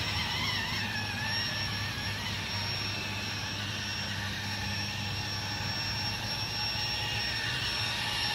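A Blade 230s RC helicopter spins up at night with a steady, whining rotor and motor drone that holds constant and fairly loud throughout, with no talking.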